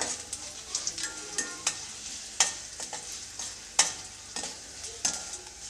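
Cumin seeds fry in hot oil for jeera rice, with a soft background sizzle broken by sharp pops and the clicks of a spatula at irregular intervals.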